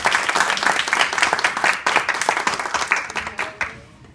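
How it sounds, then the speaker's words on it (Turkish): An audience at a family communication seminar breaks into sustained applause, dense overlapping claps rolling steadily for about four seconds before thinning and fading near the end. "Lütfen onun için kocaman bir alkış istiyorum."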